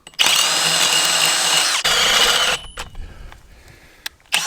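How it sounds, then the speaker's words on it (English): A power drill with a 10mm bit bores a hole through a wooden paddock fence corner post, running loud and steady for about two seconds, then winding down with scattered clicks and a few short bursts. "Now I just have a 10mm drill bit."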